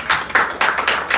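A church congregation claps in quick rhythmic bursts during a Sunday service, a steady run of sharp hand claps that fills the room, fairly loud and close with no talking over it.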